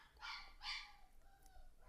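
A puppy cries in a few short, high whimpering yelps with brief pauses between them, fairly faint and heard alone.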